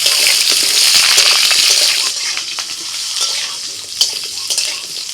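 Potatoes frying in oil with black cumin and green chillies in a pan, loud close sizzling with stirring scrapes and clatter, easing slightly partway through, no voices.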